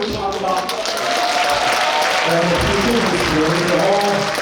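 A crowd claps at a former lawmaker's book launch event in a Korean hall, the applause swelling into a steady, dense patter as it builds, with a voice speaking over it.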